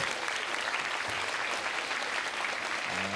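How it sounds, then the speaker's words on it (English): An audience at a brain education symposium held at United Nations Headquarters applauds, a steady dense patter of many hands clapping at even volume throughout, with a brief low murmur near the end. "Shouldn't we have some applause?"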